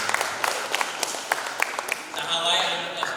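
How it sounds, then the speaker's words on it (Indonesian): An audience at a local government constituent meeting in Bandung gives scattered, moderately loud applause that tapers off after a couple of seconds, with crowd murmur and a voice underneath. "Tepuk tangan untuk beliau."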